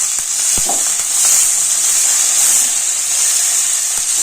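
Green chillies sizzle steadily in a pan for a capsicum and cabbage curry, with a bright continuous fry hiss and a few soft clicks of stirring throughout.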